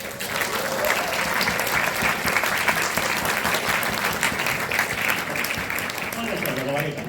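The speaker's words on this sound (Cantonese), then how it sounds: "多謝在座各位嘅掌聲" Sustained applause from an audience at the championship final of an inter-school Chinese debate competition, a dense, steady clatter of many hands clapping throughout, close and loud with no break.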